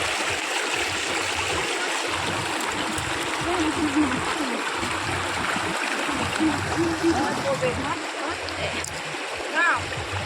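A flowing stream at a family picnic spot, a steady rushing babble of water heard close by, with people talking over it intermittently.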